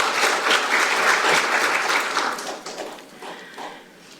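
Audience applause at a Korean National Assembly forum on training national strategic maritime officers, a broad steady clapping crowd that swells for a few seconds and then gradually thins and fades.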